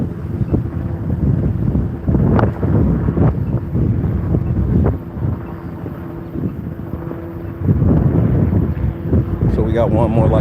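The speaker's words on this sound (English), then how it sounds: "It's windy right now." Strong gusts buffet the microphone outside an NBA Finals game at Paycom Center, Oklahoma City, in loud, uneven rumbling bursts, with a voice briefly audible near the end.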